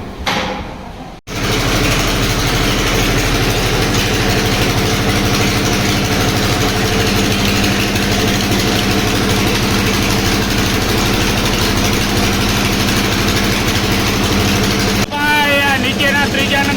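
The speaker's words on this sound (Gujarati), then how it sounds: "આ રીતે ઘોડીમાં એન્જિન ફિટિંગ કરેલું છે, આ રીતે આમ ઘોડી છે ને ઘોડીમાં એન્જિન લગાડેલું છે।" Engine mounted on a desi borewell drilling rig runs at a steady, loud, close idle, a continuous low rumble after a brief start.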